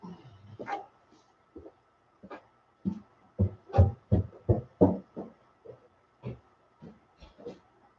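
A dog barks from another floor of a house, muffled thumping barks coming in an irregular run of bursts, some louder and clustered, with no talk over them.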